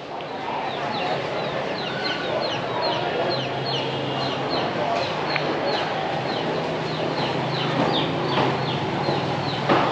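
Live chickens cluck continuously at a busy market in Da Lat, Vietnam, with many overlapping short calls against a steady wash of crowd and market noise.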